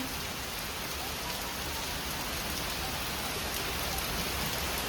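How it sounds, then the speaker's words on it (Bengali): Heavy rain pours down in a steady, dense downpour, a constant loud wash of drops striking surfaces with no pauses and no voices. "কি জোরে বৃষ্টি এসে গেল, কি জোরে!"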